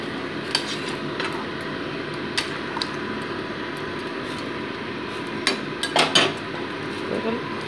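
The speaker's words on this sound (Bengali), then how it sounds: "ভালো মতো ঝোলের সাথে মাংসটাকে মিশিয়ে নিচ্ছি।" A spoon stirs chicken curry meat into gravy in a metal pot, giving scattered clinks and scrapes against the pot over a steady background hiss, with a cluster of louder clanks near the end.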